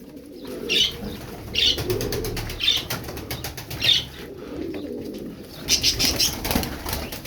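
Tumbler pigeons fly overhead, their wings flapping in repeated close bursts of clattering beats, with soft cooing and chirps between them and no talk.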